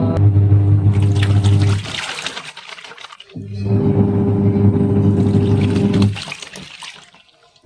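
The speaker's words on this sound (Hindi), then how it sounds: "और यहाँ पर धुलने लग गए हैं कपड़े" A washing machine churns clothes in a steady, loud run of water sloshing and motor hum, pausing briefly midway before the wash resumes and then fades out at the end.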